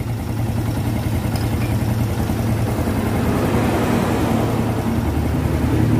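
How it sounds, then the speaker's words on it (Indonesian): An overhauled Yamaha Vega ZR motorcycle engine idles in a steady, even, low rumble, running close and alone with no voices. "Nih, mesinnya sudah hidup, suaranya dengerin ya"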